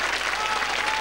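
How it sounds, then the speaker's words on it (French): Dense, steady audience applause fills a French television gala stage as two honourees are welcomed, many hands clapping loudly and evenly with no voices on top. "je vous demande d'applaudir tout d'abord Éric Escoffier et Jacques Sananès"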